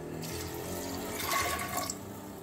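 Water pours steadily into a pressure cooker holding soaked, rinsed chickpeas, a continuous close splashing stream with no voices.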